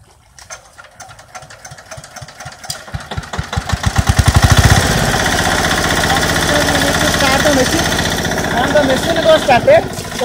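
A paddy transplanter engine starts in a field, its putter speeding up from slow separate chugs into a loud, fast, steady mechanical rattle that runs on close by.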